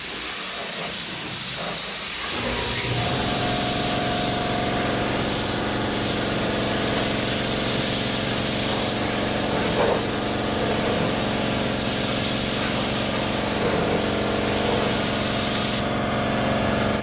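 A spray gun hisses steadily and loudly as it lays down automotive paint and clear coat on a car body, one long continuous spray with no talk.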